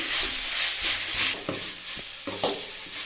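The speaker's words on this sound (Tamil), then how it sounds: "எல்லாத்தையும் நல்லா மிக்ஸ் பண்ணி விடுங்க" Carrots and beans are stirred with salt in a hot pan for fried rice, with close rhythmic scraping strokes over a soft constant sizzle.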